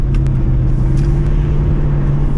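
A 1996 Corvette on new 17 x 11 inch wheels and tires accelerates on a wet road, giving a steady, loud low engine rumble close by with no voices over it.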